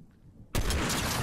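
A single loud sniper rifle shot in Fortnite cracks out abruptly after a quiet lull, then rings on with a dense, sustained tail.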